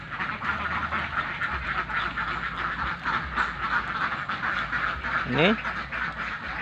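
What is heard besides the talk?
free-range village ducks quacking in rice field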